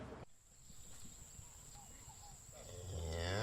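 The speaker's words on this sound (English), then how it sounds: "Cattle farmer Manuel Vicente Parra has had to cut the number of cattle he owns because of the crisis." Cattle on a farm give a drawn-out, low moo that swells louder toward the end, over a faint background hum.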